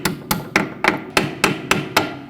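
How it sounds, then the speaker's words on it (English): Eight sharp metallic hammer taps on a stuck brake pin of a 2006-2015 Lexus IS250 at an even, steady pace, close and ringing briefly after each strike. "I'm going to take a hammer and gently tap it."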